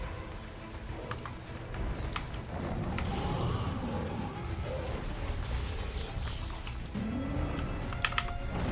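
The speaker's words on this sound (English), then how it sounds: "Hate when I fat finger the keyboard." Rapid clattering keystrokes on a computer keyboard during a Guild Wars gaming session, close and continuous with irregular bursts over faint game sound.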